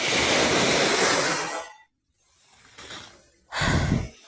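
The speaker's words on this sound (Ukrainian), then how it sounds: "завдяки цим хвилям" Surf rushes in with a broad roar, falls quiet, then another wave washes up loudly close by.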